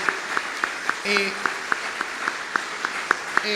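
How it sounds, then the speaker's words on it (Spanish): A crowd at a book fair in Venezuela claps in a steady, even rhythm, each beat sharp and regular, with a brief voice calling out partway through. "Yo pido un aplauso para Chávez, para Fidel, para todo lo que han creado"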